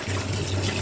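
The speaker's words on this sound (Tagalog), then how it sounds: "So, hugasan na natin to kasi malapit na nating ilagay." Dried Chinese soup ingredients rinsed under a running tap, a brief steady gush of water close by.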